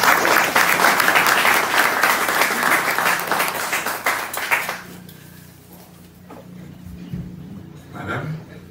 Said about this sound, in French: On applaudit à les messieurs